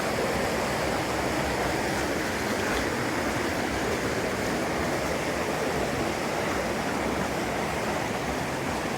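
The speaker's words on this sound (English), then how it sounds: "gorgeous river." A river rushes steadily outdoors on an overnight backpacking trip, with a constant, dense wash of flowing water and no voices.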